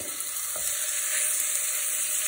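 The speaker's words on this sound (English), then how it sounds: "We love sizzle of pork chops." Steady, crackling sizzle of pork chops frying in olive oil in a hot pan, continuous and close with no talking.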